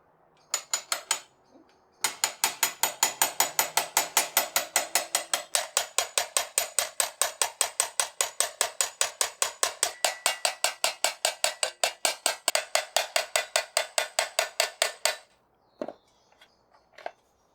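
Scythe blade being peened with rapid, evenly spaced metallic taps, a long close run of sharp clinks lasting over ten seconds after a short opening burst, then a few scattered knocks.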